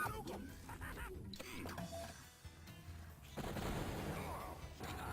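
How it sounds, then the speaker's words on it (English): Rapid-fire missile launcher shots in the video game Shadow Warrior, a dense stream of bursts and blasts running through the whole stretch, louder toward the end, layered over game noise. "Oh, the rapid fire missile thing as well."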